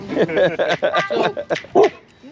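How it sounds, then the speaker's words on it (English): A dog barks and yips several times in quick succession, close and fairly loud, with voices in the room. "No, he can bark. That's all. He can bark."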